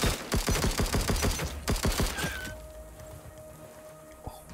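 Rapid burst of gunshots from a weapon in the video game Dysmantle, a fast rhythmic volley of sharp cracks lasting about two seconds, then a quieter ambient tail with a faint tone and a single soft click.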